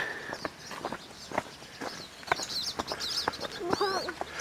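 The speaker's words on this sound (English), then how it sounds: "you can hear so many birds tweeting as we come down here" Several short bird chirps and calls scattered through the clip, moderately near, over a quiet outdoor background in the Weaselhead valley by the Glenmore Reservoir in June.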